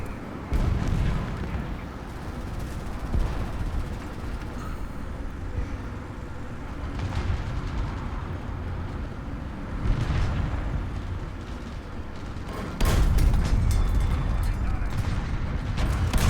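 A British Mark V WWI medium tank in War Thunder rumbles through battle, with deep continuous engine roar and heavy booming cannon and explosion blasts, the loudest near the end.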